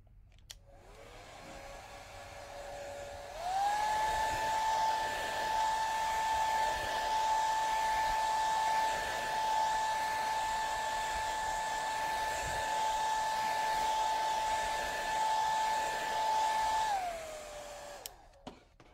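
A hair dryer runs close by, drying a freshly stained mason jar: a steady, loud whine with a constant tone that starts a few seconds in, holds for about thirteen seconds, then spins down and clicks off.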